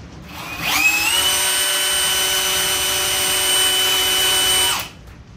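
A Bosch GSB 18V-150C cordless hammer drill runs at speed 1, spinning up quickly into a steady high-pitched whine with clear tonal overtones, holding for about four seconds before cutting off.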